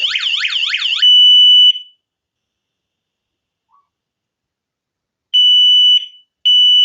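A loud electronic alarm siren from a Tuya Smart SR5 home alarm kit wails in rapid sweeping tones, then holds a steady high tone, falls silent, and returns in two sustained beeping bursts.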